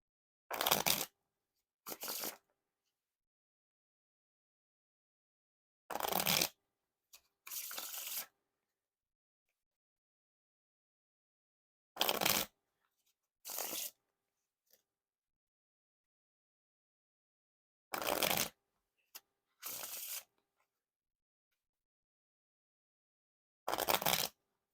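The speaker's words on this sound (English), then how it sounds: "Now onto the riffle shuffle or bridge shuffle." Riffle shuffles of an Odd Bods deck of playing cards, each a brief crisp burst of flicking cards, heard in pairs at regular intervals with silence between, close and clear.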